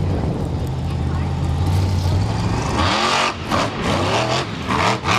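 A monster truck on a beach track in Wildwood, New Jersey roars as it whips through a donut, the engine loud and rising and falling under an announcer's commentary.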